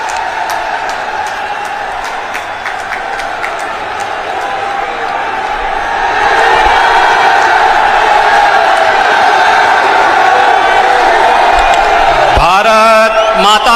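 A large crowd gathered on a university campus for a foundation stone laying ceremony, murmuring and cheering steadily throughout, swelling louder past the midpoint, with a voice rising at the very end.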